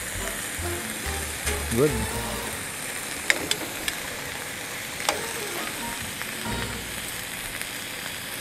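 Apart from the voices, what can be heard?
refrying seasoned pulled pork adobo flakes in a pan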